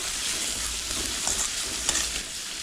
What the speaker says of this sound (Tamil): குடமிளகா வந்து நான் பாதி எடுத்துருக்கேன். இது ஒரு நிமிஷம் வதங்கட்டும்.